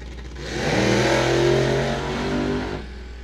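Injected and supercharged drag racing cars launch down the strip at Coles County Dragway, a loud broad engine roar that swells, holds and then fades as the cars pull away.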